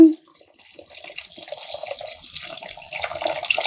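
Soaked tamarind juice being poured into a prawn curry, a close, soft trickle and splash of liquid that starts after a brief clunk and grows steadily louder.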